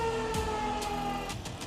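An air raid siren sounding, a steady wailing tone held at a moderate distance, with a few sharp bursts of noise breaking over it.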